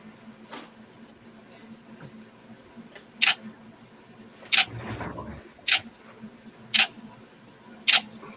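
A camera shutter fires five times, each a sharp, loud click spaced about a second apart, over a quiet room with a faint hum and a brief low rustle between shots.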